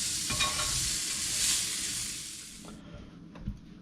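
Pineapple rings sizzle loudly in a very hot pan, a bright hissing fry that fades and cuts off after a few seconds, followed by a couple of soft clinks of utensils.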